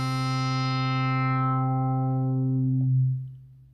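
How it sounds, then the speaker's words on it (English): A synthesizer tone swept through a closing low-pass filter, the bright buzzy sustained note gradually darkening until only a deep hum remains, then fading out, played alone without any talk. "It's what's called a low pass filter."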